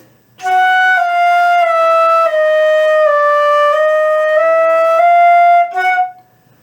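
Solo flute playing a slow chromatic passage from an Aladdin arrangement, sustained notes stepping gradually by semitones, clear and close, ending with a short final note.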